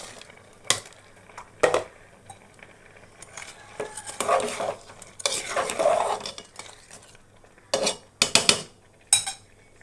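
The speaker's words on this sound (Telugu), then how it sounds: "అన్నం ఉడుకుతుందండి" Rice simmers in milk with jaggery for a sweet milk-rice dish, heard as irregular bursts of metal spoon stirring and pot scraping over a soft bubbling sizzle.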